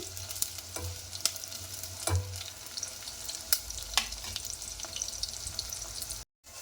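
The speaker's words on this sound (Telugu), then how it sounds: "ఆనియన్ లైట్గా ఫ్రై కావాలండి" Onions fry lightly in a pan for a Telugu bottle gourd curry, giving a continuous close sizzle with occasional sharp clicks of stirring, then stopping abruptly near the end.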